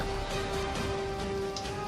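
Steady rain falls over a canal where giant snakehead fish are kept, a dense broadband patter with a faint constant hum beneath, continuous for the whole stretch with no voices.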